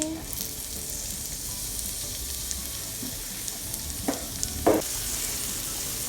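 Garlic and onion frying in oil, a steady close sizzle with a few brief clinks of stirring near the end.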